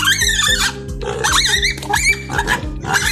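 Piglets squealing loudly and repeatedly while being given Yakult probiotic drink on a farm, shrill overlapping cries in rapid bursts with rhythmic grunting underneath, close by.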